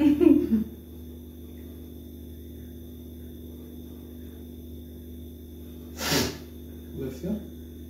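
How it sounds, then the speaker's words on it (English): A single quick sneeze bursts out, fairly close but modest in level, over a steady electrical hum, with a brief voice or snort before it and a smaller breathy sound after. "What's the sound of this sneeze?"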